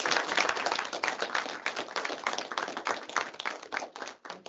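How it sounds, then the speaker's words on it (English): An audience gives a final round of applause after a presentation on AIoT, steady moderate clapping from a small group, somewhat thin and compressed in tone. "Let's give Dirk a final round of applause for his presentation."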